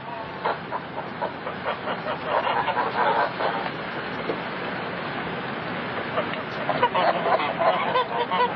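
A flock of geese honks steadily at a moderate distance, with overlapping calls rising and falling in a continuous, busy chorus throughout.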